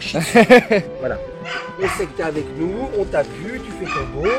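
Shih Tzu dogs at a breeding kennel give several sharp, loud barks and yips up close, then whine and whimper beneath someone speaking French.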